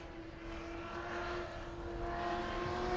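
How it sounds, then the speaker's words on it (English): A modified stock car at New Smyrna racetrack runs a qualifying lap, its engine drone a steady, fairly distant roar that holds a constant pitch and swells slightly as it approaches, with no voices. "the Napa Auto Parts Bruns General Contractors machine takes to the racetrack"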